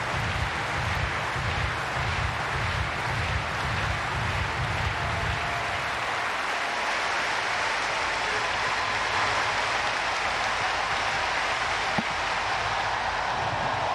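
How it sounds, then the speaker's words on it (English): A stadium crowd at the women's long jump final of the Athletics World Championships roars in a dense, sustained wash of cheering and applause, with rhythmic clapping early on, then settles into a continuous distant roar. "The crowd's ecstatic."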